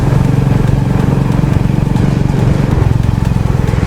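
A KTM RC390 motorcycle on a winter ride drones loudly and steadily at close range, its engine throbbing in a fast, even pulse with wind rush over it.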